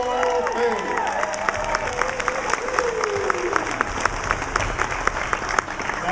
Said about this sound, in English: I want to give a round of applause to Miss Tony Fassbender, who organized this whole thing.